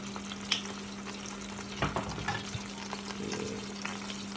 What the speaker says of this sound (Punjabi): ਤੇ ਇਹਨੂੰ ਬਟਰ ਚ ਕੁੱਕ ਕਰਕੇ ਤੇ ਨਾਲ ਗਾਰਲਿਕ